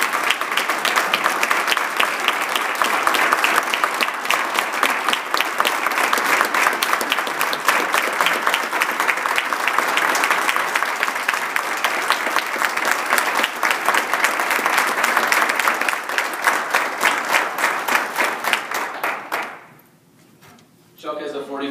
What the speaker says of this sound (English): Ladies and gentlemen, please, nice round of applause for Chuck and Pat Stage as our Book of Honors